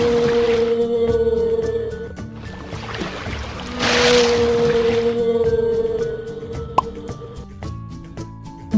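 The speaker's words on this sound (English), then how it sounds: "Whale." A whale calls in a children's animal-learning compilation: long, steady tonal moans that swell and fade across several seconds, with soft splashy water noise and a brief plop near the end.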